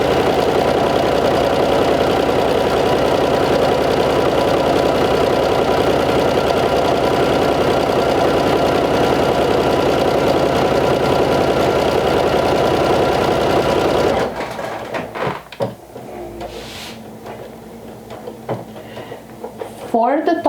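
A sewing machine runs a seam in one continuous loud mechanical whir for about fourteen seconds, then stops, leaving quieter handling clicks and rustles.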